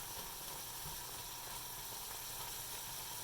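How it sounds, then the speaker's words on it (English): Vegetables sauté in a pan with a steady, soft sizzling hiss, continuous and low in level, with no voices. "I'm just gonna saute one by one the vegetables a little bit"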